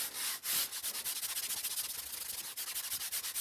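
EVA foam sanded by hand to shape a bevel, a close, quiet run of quick rhythmic rasping strokes with no talking.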